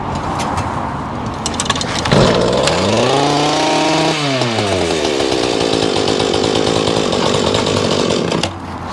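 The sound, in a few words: lawn mower engine running after starting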